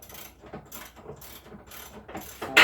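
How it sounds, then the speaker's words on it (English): A ratchet tightens master cylinder mounting bolts, giving a quick series of close, crisp clicking strokes in an even rhythm, ending in a louder clack. "we're going to tighten the bolts"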